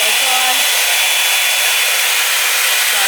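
A Revlon One Step 1.5-inch round brush blow dryer roars steadily and loudly up close as it dries hair, a constant airy whoosh with a faint whine and no break.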